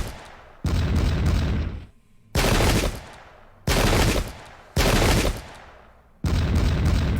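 Cannon volleys in the Pike and Shot: Campaigns strategy game boom out as five loud, separate bursts, each with a rolling tail, against quiet game ambience.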